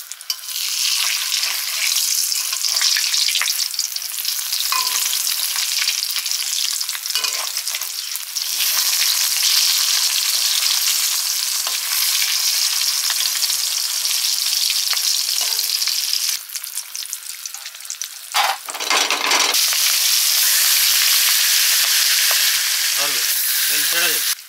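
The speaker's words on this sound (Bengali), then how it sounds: "আর তাতেই সব মাছ ভাজা হয়ে যাবে।" Rupchanda fish frying in a wok of oil rendered from the fish bellies: a loud, steady sizzle and crackle runs throughout, with occasional stirring scrapes and brief dips where pieces are turned or lifted.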